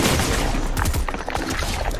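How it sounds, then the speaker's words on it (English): Repeated gunshots in Fortnite from a Mammoth pistol, a dense run of loud cracks and booms with battle noise, no talk. "Oh, I keep missing my pistol shots."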